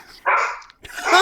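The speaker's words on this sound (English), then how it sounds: "And then the dog barks." A dog lets out two short, sharp barks close by, the second slightly rougher, with a brief gap between them and no talking.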